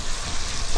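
Shrimp frying in oil in a pan for pineapple fried rice, a steady close crackling sizzle that swells slightly toward the end, with no voices.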